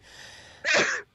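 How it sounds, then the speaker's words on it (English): A single loud, close human sneeze bursts out after a short breathy intake. "And now I'm going to sneeze."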